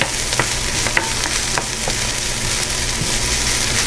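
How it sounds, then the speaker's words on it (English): Beef fried rice with green onions stir-frying in a hot pan, a steady close sizzle with scraping stirs and light clinks of the utensil throughout, no talking. "We're going to stir fry that."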